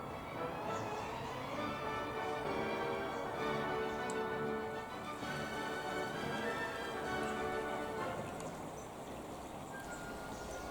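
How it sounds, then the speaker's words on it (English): Showery rain falls on the surface of Spynie Loch in Scotland during winter weather, a steady, dense patter that holds evenly for the whole stretch with no talk over it. "In this shot you can see the rain on the water."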